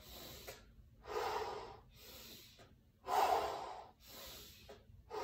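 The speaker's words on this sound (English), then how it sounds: "Breathing, inhale, exhale, and see if you can time up your breath." Slow, deep breaths drawn in and let out during a morning movement routine, two long airy inhale-exhale cycles that swell and fade, close and alone with no talking.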